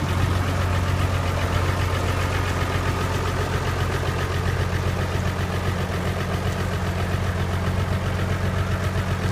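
A Ford County 6 tractor engine with injector problems runs steadily at a low, knocking idle, close and continuous for the whole stretch with no voices.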